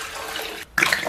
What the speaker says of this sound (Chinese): 然后咱们给里边稍微来点水